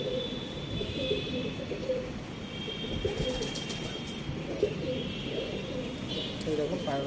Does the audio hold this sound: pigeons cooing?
yes